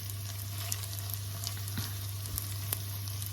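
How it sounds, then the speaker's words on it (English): Ackee and saltfish stir fry with peppers and onions sizzles in a pan, a steady crackling fry with scattered pops over a constant low hum. "Turn that down and let it sizzle away."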